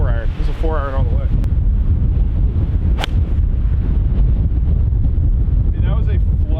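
Strong wind gusts buffet the microphone on an open golf course, a constant loud roar with a brief voice at the start and a sharp click midway.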